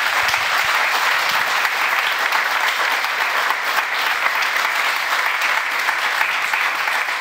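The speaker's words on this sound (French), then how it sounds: "Vous pouvez applaudir Frédéric." A TV studio audience gives a guest sustained, even applause, a dense wash of clapping that holds at the same loudness for several seconds with no talking.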